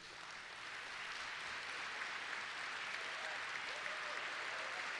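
A large Parti Québécois political rally gives the standing parliamentary team sustained applause, a broad, even wash of many hands that swells slightly and holds, heard from a distance at low level.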